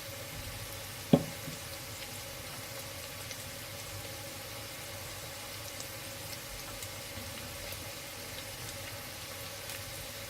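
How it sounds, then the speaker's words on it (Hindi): Vegetables frying in about two tablespoons of oil in a pan set on a griddle, a soft, continuous sizzle held at low level throughout, with one brief clink near the start and no speech. "मैं पैन ले लूँगी इस तवे के ऊपर, मैं इसको फ्राई करूँगी सारी वेजिटेबल्स को"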